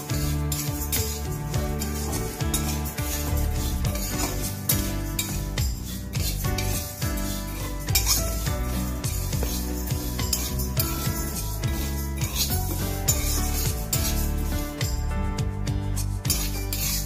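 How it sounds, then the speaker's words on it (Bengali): Dry lentils rattle and scrape continuously in a metal wok as they are stirred, a dense steady clatter of grains and spatula. "প্রথমে আমি কড়াই বসিয়ে ডালটাকে মুগ ডালটাকে ভালো করে ভেজে নেব।"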